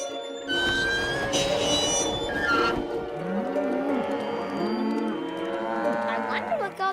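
Several cartoon cows moo on a misty farm, drawn-out lowing calls overlapping and rising and falling in pitch, loud and close, with a high whistle-like squeak early on.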